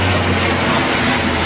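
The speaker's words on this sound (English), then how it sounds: "Alaska Airlines Q400." Alaska Airlines Q400 turboprop airliner passing low overhead, a loud, steady broadband engine and propeller roar with a low droning hum filling the whole moment, no voices over it.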